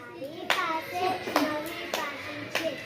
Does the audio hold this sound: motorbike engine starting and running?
no